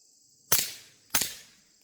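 Two suppressed .22 pistol shots from a TX22 fitted with a Dead Air Mask suppressor, each a sharp, fairly quiet crack with a short decaying tail, about 0.6 seconds apart, with no other sound around them.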